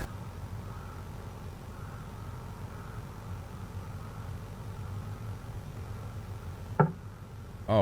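A door is knocked on in The Arkham Tapes audio drama: a single sharp, close knock cuts through a quiet low hum near the end, and a second knock begins just as it closes.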